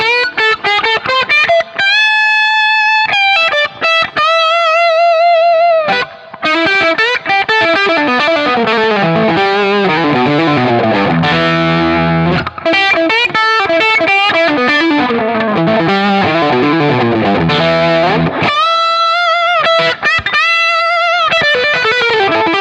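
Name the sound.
Gibson Les Paul through Boostache pedal with bass cut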